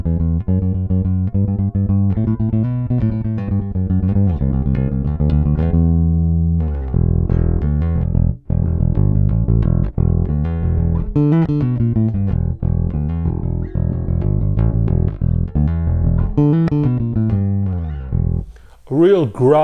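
Harley Benton Enhanced MJ-5 five-string bass played through its neck pickup, giving loud, warm, growling notes in a continuous riff with slides and a few brief pauses, heard alone without talking.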